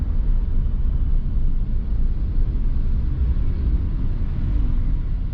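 Jammed road traffic in Batam, a steady low rumble of idling and creeping engines heard from inside a vehicle, continuous and even throughout with no talking.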